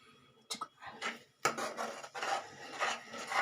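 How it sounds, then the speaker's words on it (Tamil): A utensil stirs egg bhurji in a pan, producing several close scraping and rubbing strokes in quick, uneven bursts over a few seconds. "இப்போ இதை நல்லா அப்படி கிண்டிக்கிட்டே இருங்க கைவிடாமல்"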